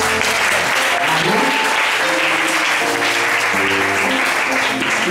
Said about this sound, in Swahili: Tupigie Mungu wetu makofi